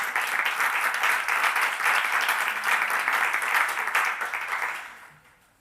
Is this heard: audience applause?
yes